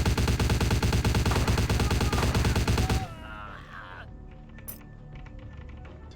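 Rapid automatic gunfire from the Vampire: The Masquerade game, played as a Toreador, hammers loudly and continuously for about three seconds, then cuts off into quieter game ambience with a few scattered clicks.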